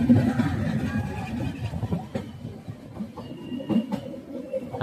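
The Ooty toy steam train rumbles along the mountain railway between Mettupalayam and Coonoor, with continuous low wheel and carriage noise, a few sharp clanks, and faint passenger chatter underneath.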